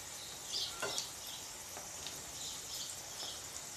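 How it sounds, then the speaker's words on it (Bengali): Paratha frying in hot oil in a pan, a faint, steady sizzle with small crackles throughout, no voices over it. "আমাৰ তেল গৰম হৈ গৈছে এতিয়া আমি পৰঠাটো ইয়া দি দিম ফ্রাই হবলৈ"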